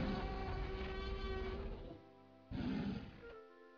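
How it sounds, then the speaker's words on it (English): A subway train in the 1997 PC game Chaos Island: The Lost World rumbles past with a steady mechanical drone and tonal whine, briefly dropping away before surging back, heard alone and moderately loud. "Because there's a subway train."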